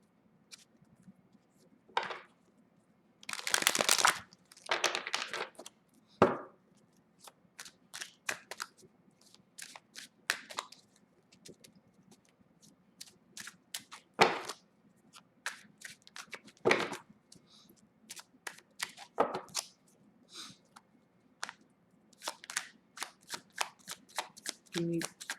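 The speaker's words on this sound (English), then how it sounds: "Two more shuffles." Repeated crisp riffle shuffles of a tarot or oracle card deck, several bursts with quiet gaps and small taps between, close and fairly quiet.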